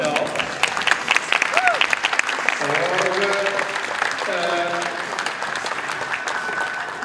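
Audience clapping steadily for a rider and horse pair who placed second in tölt at an Icelandic horse event, sustained applause throughout with a voice speaking briefly over it.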